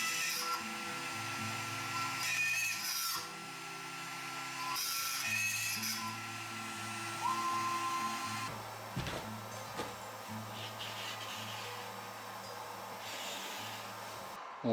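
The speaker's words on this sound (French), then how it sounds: "Mèche de 4 pour les perçages au niveau du manche." A power drill with a 4 mm bit whirs in several short bursts into a khaya wood electric guitar body, with pauses between them, close by and fairly quiet, its pitch dipping as the bit bites.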